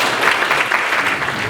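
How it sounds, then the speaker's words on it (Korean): Seminar audience applauding a presenter at a joint military space-security seminar, steady indoor clapping from many hands, fairly loud and continuous throughout the short moment. "박수 부탁드리겠습니다."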